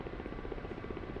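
Helicopter flying in formation practice, its steady rapid rotor thump and engine drone continuous and close, heard from inside the cabin.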